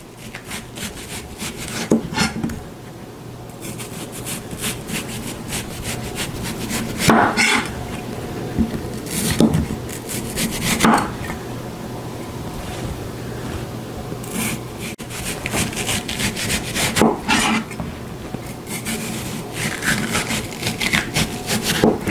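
A kitchen knife slices the rind off a watermelon, producing repeated close scraping and rubbing strokes with occasional sharper knocks against a cutting board, steady and unhurried.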